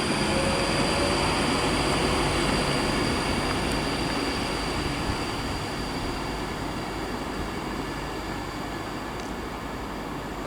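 An Avanti West Coast Class 390 pulls out of Birmingham International on the West Coast Main Line, a steady broadband rumble and whine holding level throughout at moderate distance, with no voices.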